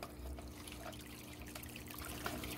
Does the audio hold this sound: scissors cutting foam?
no